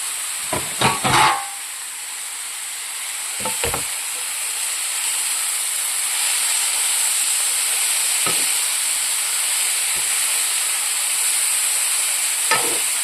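Beetroot and dried prawn thoran stirred in a pan, a steady close hiss of frying with a few sharp scraping stirs near the start and occasional clinks later, no talk.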